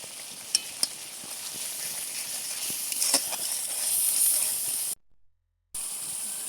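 Cumin paste, dried chilli paste, salt and turmeric fry in a pan for vegetable dal, a continuous close hiss and sizzle with a couple of light taps, briefly cutting to silence near the end.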